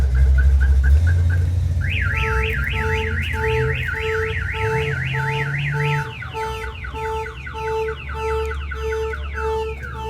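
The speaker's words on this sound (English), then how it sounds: "Car alarms." A car alarm blares nearby, running through several cycles of tones: short chirps, a rapid warbling siren, and repeated fast pulsing patterns over a low engine rumble.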